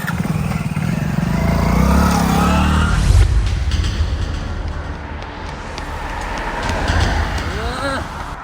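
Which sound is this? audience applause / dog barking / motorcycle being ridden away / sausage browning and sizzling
motorcycle being ridden away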